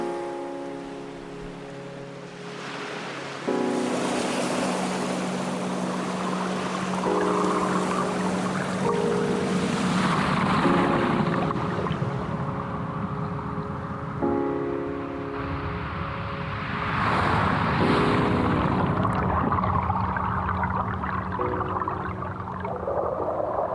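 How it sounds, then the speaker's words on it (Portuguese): Underwater currents wash over pebbles and sand in a continuous hiss and rush, with faint tonal hums weaving through the steady flow. "ouve o deslocamento do fluxo das correntes, o som da água sobre os seixos e a areia"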